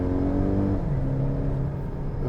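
2018 Volvo V90 Cross Country wagon with a 4-cylinder engine in Dynamic mode, pulling away from a traffic light. A steady, fairly loud engine drone rises in pitch, heard from inside the cabin without talk.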